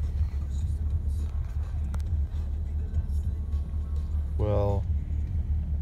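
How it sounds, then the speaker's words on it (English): Steady low road rumble inside a moving Chevrolet SS, with a voice speaking briefly near the end. "we're in my dad's car, which is the Chevrolet SS"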